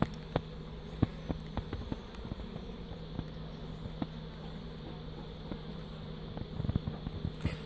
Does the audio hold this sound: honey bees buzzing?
yes